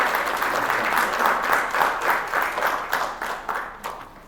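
An audience at a student artists-in-residence showcase claps steadily in a dense, lively burst of applause that gradually thins toward the end.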